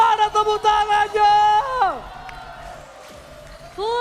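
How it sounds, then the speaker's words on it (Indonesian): A full-house crowd at the MPL Arena esports match (ONIC Esports vs Alter Ego) breaks into loud, sustained applause and cheering after a host's amplified voice, fading briefly before the talk resumes. "Gue pengen minta tepuk tangannya untuk MPL Arena. Mana tepuk tangannya?"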